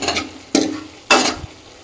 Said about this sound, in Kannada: ಒಂದು ಹತ್ತು ನಿಮಿಷ ಫ್ರೈ ಮಾಡಬೇಕು